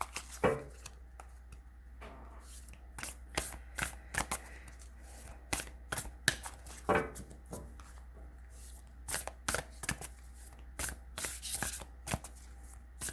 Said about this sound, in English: I'm going to shuffle it this way too.